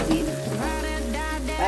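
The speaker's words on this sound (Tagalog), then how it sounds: "So, lutuin natin ang ating itlog." An egg frying in a pan gives a steady close sizzle, with a faint tonal hum running underneath throughout.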